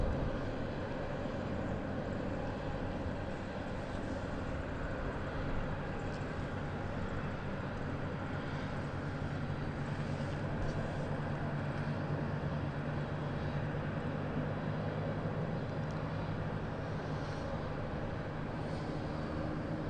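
KLM-liveried aircraft on a training flight at Southend Airport, heard as a steady, continuous broadband engine roar at moderate distance, holding fairly constant throughout with no talk.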